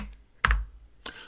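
Two short bursts of keystrokes clatter on a computer keyboard, close and fairly quiet, separated by a brief pause in a quiet room.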